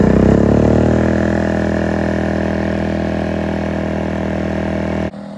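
A WEN 2350 inverter generator, switched out of eco mode, runs at a raised, steady engine speed, a continuous close mid-pitched hum that holds level before a brief drop near the end.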